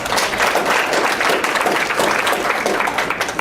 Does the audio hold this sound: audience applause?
yes